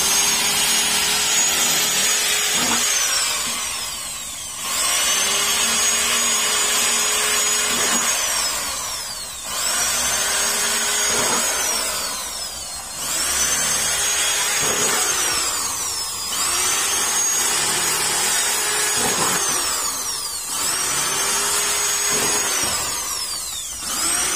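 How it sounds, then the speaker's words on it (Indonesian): A hand tool, a nail or metal rod, pierces and scrapes holes through the side of a plant pot for growing imported grapes, making repeated grinding rubbing strokes in bursts of about five seconds with short pauses, close and fairly loud with no talking. "kita ditambah lubang di sampingnya ya, bisa dilobangin menggunakan paku, besi atau apapun, yang penting lubang"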